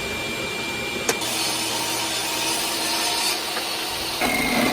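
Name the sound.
table saw cutting poplar wood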